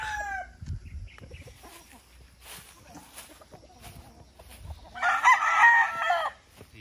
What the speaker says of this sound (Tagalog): Brood cock.